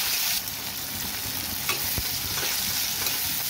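Tomatoes frying in a pan with bay leaves and browned onions, a steady close sizzle and crackle throughout with occasional stirring scrapes.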